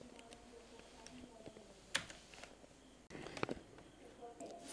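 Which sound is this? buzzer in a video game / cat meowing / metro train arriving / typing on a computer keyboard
typing on a computer keyboard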